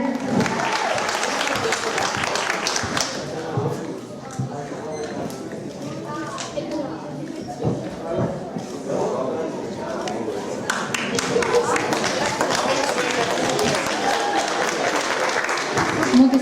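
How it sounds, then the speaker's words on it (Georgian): A concert audience at Tsinandali claps steadily in dense, sustained applause that swells again toward the end, with voices mixed into the crowd noise. "აპლოდისმენტები"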